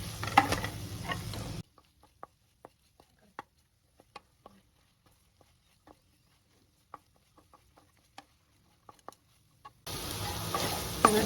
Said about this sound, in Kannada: ಅದನ್ನು ಹಾಕ್ಕೊಂಡು ಇದೆಲ್ಲ ಹಾಕಿ ಚೆನ್ನಾಗಿ ಇನ್ನೊಂದ್ಸಲ ಫ್ರೈ ಮಾಡ್ಕೋಬೇಕು